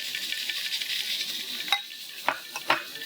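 Chopped green chillies drop into hot oil with frying curry leaves, giving a steady bright sizzle punctuated by a few sharper crackles and spatters, close and moderately loud with no talking.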